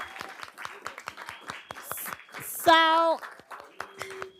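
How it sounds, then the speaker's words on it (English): Scattered applause for an athlete at a Belle Glade, Florida city commission meeting: light, uneven claps running under a speaking voice, with a brief loud tonal blare cutting in partway through. "Let's give her a round of applause for that."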